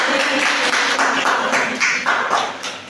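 Loud, close classroom applause, many hands clapping in a fast, irregular rhythm throughout, with no talking over it.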